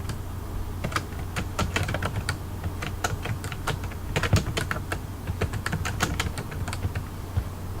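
Typing on a computer keyboard to enter a report title, a steady run of light, uneven key clicks close by with no speech.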